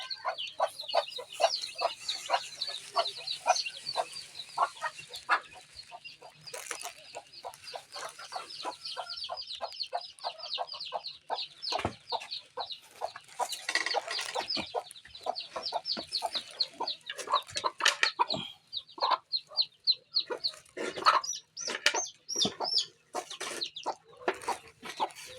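A native hen clucks repeatedly near a brood of newly hatched chicks, a rapid run of short close calls mixed with thin high chick peeps, loud and without talk.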